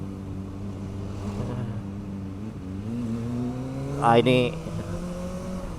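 A motorbike engine hums steadily while riding on a rough road on the way to campus, with someone talking over it and a brief rev near the end.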